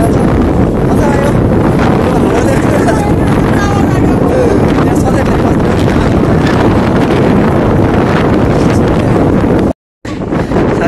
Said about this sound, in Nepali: साथीहरूलाई हावाले पुल कट्नै गाह्रो पारिदियो है